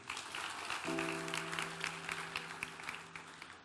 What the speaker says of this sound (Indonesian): Kita berikan tepuk tangan buat tim kita ya